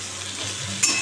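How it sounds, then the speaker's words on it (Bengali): Pumpkin and bitter gourd pieces fry in a pan, giving a brief steady sizzle with a short stirring scrape near the end. "এবার কুমড়ো উচ্ছে ভাজছি।"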